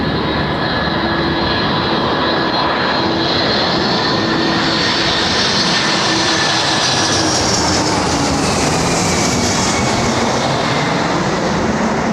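Airliner jet engines roar continuously at London Heathrow Airport, a loud sustained broadband rush with a slowly shifting whine, heard alone without talk.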